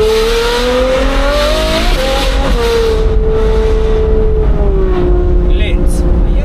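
A sports car engine revs loud and close, a sustained high tone rising and falling before settling to a steady drone, with voices audible underneath.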